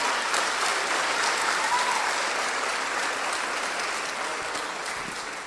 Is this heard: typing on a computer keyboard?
no